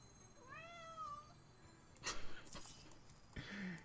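A house cat meows once with a drawn-out, rising and falling call, close and clear, followed by rustling and handling noises.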